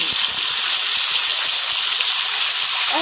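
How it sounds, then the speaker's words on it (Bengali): Taki fish dropped into hot oil in a karahi sets off a loud, continuous hissing sizzle that stays even and bright from start to finish, with no talking. "তেল গরম হয়ে গেছে। এখন আমি দিয়ে দিতেছি মাছগুলা।"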